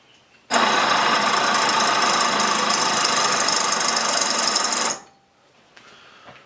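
A Hitachi air compressor from a Land Rover Discovery 3, clamped bare in a vise and powered by a 12 volt battery, runs with a loud, harsh, steady mechanical buzz and rattle for about four and a half seconds, then stops abruptly.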